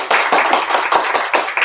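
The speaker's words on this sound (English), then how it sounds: "Let's give Priscilla De Vera a round of applause" Close, loud applause with hands clapping in quick, fairly even bursts, and no voices.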